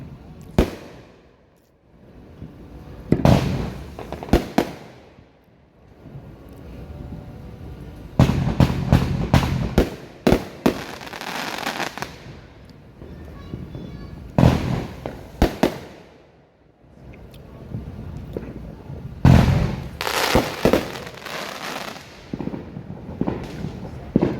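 Fourth of July fireworks display crackling and booming in dense bursts separated by brief lulls, loud with a distant outdoor echo and no clear speech.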